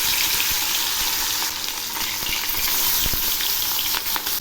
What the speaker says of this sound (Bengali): তেল গরম হয়েছে, এবার মাছগুলো ছেড়ে দিচ্ছি।